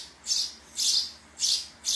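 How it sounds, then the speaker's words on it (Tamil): A little sparrow chirps outdoors on a windy day before rain, four bright, evenly spaced high calls, close and clear over a quiet background with no talking. "குருவி, குட்டி குருவிக்கு விளையாடிட்டு இருக்கு."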